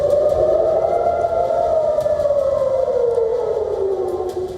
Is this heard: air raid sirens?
yes